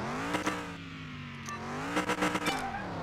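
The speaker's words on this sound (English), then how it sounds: "That's not what a V8 engine should sound like." A video game V8 car engine drones and revs steadily, pitch dipping and climbing, with a few brief squeals and clicks over the constant hum.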